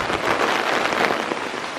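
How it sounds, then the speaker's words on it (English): Heavy rain pours down at an outdoor reclamation yard stocked with old stone, a steady, dense hiss of drops hitting surfaces close by, with no voices. "Little drizzle has just fallen."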